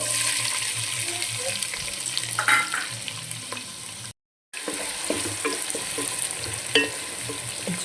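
Sliced onions and green chillies fry with cumin in hot oil, making a loud, steady hiss with stirring scrapes mixed in. The sizzle cuts out completely for a split second midway, then resumes.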